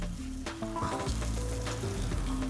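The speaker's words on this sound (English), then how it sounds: "So same pan, little more olive oil, just to get it going. Add your broccoli, then your peppers," Broccoli and peppers sizzle in olive oil in the same pan used for roast pork, a low continuous fry under clattering and shifting noises, with some tonal background sounds, close and moderately loud.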